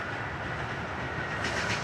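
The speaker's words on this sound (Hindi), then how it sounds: "133 अब कोहाट एक्सप्रेस जो है वो भी आ गई है" A Pakistani train, the Kohat Express, passing at Nur Junction, heard as a steady near rumble of rolling rail cars with a faint rising whine, loud and continuous, without talk.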